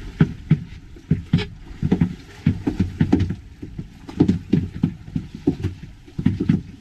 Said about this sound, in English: So that nice loud noise of the boat